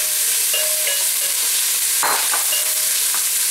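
Cabbage tossed into a hot pan with alliums hisses in a loud, continuous sizzle, with a burst of crackling as it lands and stirring clatter scattered throughout.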